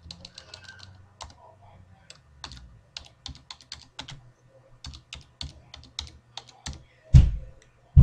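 Typing on a computer keyboard while filling in a form: rapid bursts of clicky keystrokes, close and fairly loud, with short pauses and a couple of heavier key thumps near the end, no talk.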